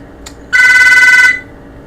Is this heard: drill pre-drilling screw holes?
no